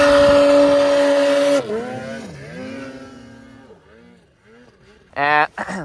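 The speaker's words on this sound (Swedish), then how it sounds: "Ny skoter, 446 i det här djupa tungpudern." A new 446 snowmobile revs loud and close through deep, heavy powder snow, its engine pitch rising and dipping as it works, before a burst of hard revving at the end.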